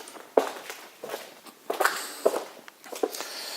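Footsteps moving around a 2007 Yamaha FZ6 motorcycle. A few soft, irregular steps land at close range in a quiet setting.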